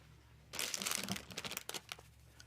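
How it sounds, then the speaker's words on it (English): Wired ribbon streamers are shaped by hand for a pomander ball of spray roses, giving close, dense crinkling and rustling that starts after a brief quiet, then breaks into sharp separate crackles. "Because this is wired ribbon, I'm able to shape these streamers."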